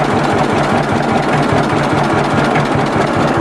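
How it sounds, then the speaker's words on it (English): A 1955 John Deere Model 50 two-cylinder tractor with a dual carburetor idles close by, giving a loud, steady, rhythmic popping chug throughout. "you can idle it down and just let the Johnny Popper pop"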